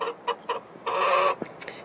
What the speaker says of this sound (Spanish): Es realmente difícil adaptar una gallina.